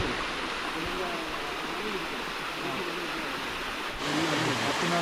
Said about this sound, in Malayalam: ഈ കാണുന്നതാണ് ഗവി അരുവി വെള്ളച്ചാട്ടം.